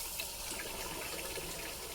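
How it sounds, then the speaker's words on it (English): Tap water runs from a faucet into a sink in a steady, even hiss and splatter, close by and uninterrupted, with no talking. "we're going to let that water run for a minute"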